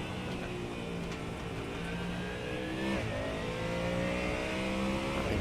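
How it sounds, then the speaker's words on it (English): Race car engine in the iRacing sim, a loud continuous high-revving drone with rising and falling pitch sweeps as the car accelerates and shifts gears, steady and close throughout. "That engine is too loud."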